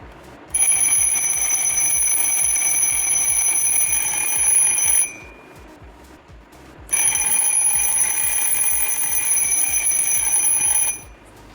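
An IKEA alarm clock rings loudly and close up in two long continuous bursts of bright electronic tone, separated by a short quiet pause.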